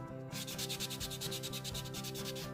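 A fingernail surface is sanded with a quick series of rhythmic scratchy strokes, regular and close up, to prepare it for gel polish. No one speaks.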